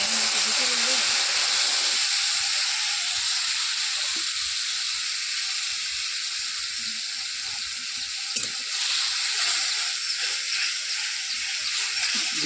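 An onion, garlic and ginger paste masala for mutton gravy sizzles and hisses steadily in a pan during village cooking, a constant bright frying noise with brief stirring clatters, while a voice talks over it.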